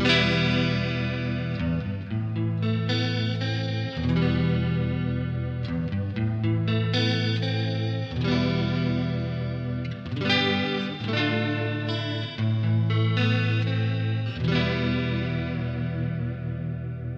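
Electric guitar through the plate reverb algorithm on a UR-RT audio interface's DSP effects plays chords and melodic lines, warm and sustained with a lush tail, alone without talking.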